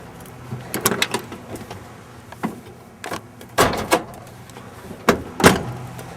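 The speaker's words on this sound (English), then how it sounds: "Let me open the hood." Opening the hood of a 1979 Dodge 100 truck brings a series of sharp metallic clunks and latch clicks, with a couple of louder thuds near the end, close up and without speech.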